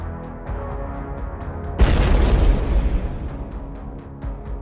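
A single heavy explosion from an FPV drone strike on a Russian vehicle lands as a loud booming burst and decays slowly, with a faint regular ticking pulse running throughout.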